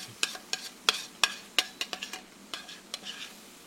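Soft sizzling of spinach in a frying pan with a series of light scrapes and taps from stirring, about a dozen quick strokes, fairly quiet.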